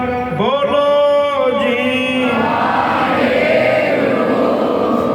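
A Sikh congregation shouts the jaikara together during Ardas, a loud collective roar from a crowd rising after a leading voice's drawn-out call.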